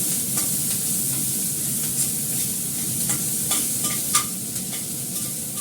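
Onion frying in hot oil in a wok: a continuous loud, dense sizzle with occasional faint scrapes of a utensil, close and steady, with no talking.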